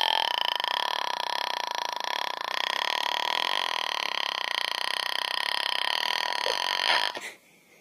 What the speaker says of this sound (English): It's real burps, and it's really long for girls.